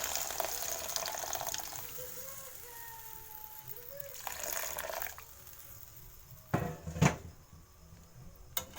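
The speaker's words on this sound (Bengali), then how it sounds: "পরিমাণ মতন গরম জল দিয়ে দেবো আমি।" Hot water poured into a simmering potato and egg curry in a pan, a soft steady pouring and bubbling for several seconds, followed by a couple of louder clinks near the end.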